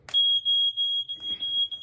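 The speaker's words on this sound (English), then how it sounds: "the smoke alarm works, so that's good news" A loud, piercing high-pitched smoke alarm tone repeating in short beeps, close by in a French château, with faint rustling in the background.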